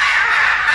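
A single loud, harsh squawk from a blue macaw at a zoo in Guarulhos, heard close and alone in a brief burst.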